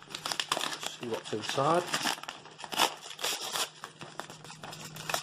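A mailed package holding coffees is torn open close to the mic, with dense bursts of crinkling and rustling paper. Someone talks over the handling.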